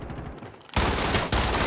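Sniper rifle shot in the Call of Duty Modern Warfare multiplayer game: a sudden loud, sharp blast cuts through quieter game ambience, followed a moment later by a second burst, with no talk.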